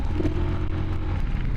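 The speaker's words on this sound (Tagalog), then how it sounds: "Pakinggan nyo makina guys." A Honda TMX Alpha motorcycle engine labours uphill, a low, steady droning hum with a faint rattling texture, heard up close and continuous with no talk over it.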